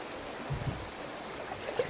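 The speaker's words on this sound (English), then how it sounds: "This is the biggest rapid on this stretch of river." Water rushes steadily through a class 1 rapid on the Dan River, a soft continuous burble heard from a boat, with a few faint splashes.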